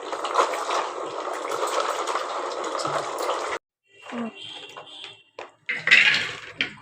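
Raw peanuts in their shells being washed by hand in water, a close, busy sloshing and rustling for several seconds, then splashes, drips and clinks against the container in short, separate bursts.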